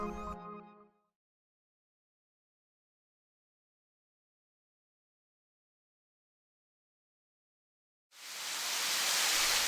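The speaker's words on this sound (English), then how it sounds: "The water is cascading over flowstone, down the side of a wall, and into a pristine pool some 20 feet below." Water cascades over flowstone down a cave wall into a pool about 20 feet below, a steady, broad hiss that fades in near the end after a short burst of sound and a long silence.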